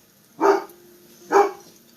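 Two sharp dog barks about a second apart, fairly close, with quiet between them.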